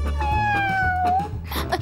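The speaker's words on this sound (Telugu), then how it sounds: "తాగు పిల్లి, తాగు." A cat in a Telugu film comedy scene lets out one long, drawn-out meow that slowly falls in pitch, heard clearly over a low background hum, followed by a brief rustle of noise.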